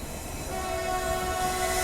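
Rajasthan Sampark Kranti Express rolling between Delhi and Jodhpur, a loud continuous rumble of running coaches with a sustained horn tone sounding over it, heard close and without talk.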